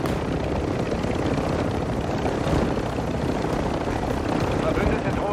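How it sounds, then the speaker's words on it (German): An allied drone circles overhead in a video game, a continuous droning rotor-like hum that stays loud and steady, layered with dense battlefield noise and intermittent distant gunfire. "Unsere Drohne umkreist das Gebiet."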